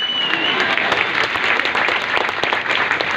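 Steady, dense applause from an audience at a business meeting, loud and continuous from start to finish with sharp individual claps scattered through the even wash of clapping.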